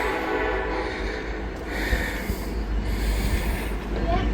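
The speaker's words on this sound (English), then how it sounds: "like we got an empty coal train." An empty Norfolk Southern coal train rumbles past a lowered-gate crossing in Marion, a steady close, low roar of wagons with faint wheel noise throughout.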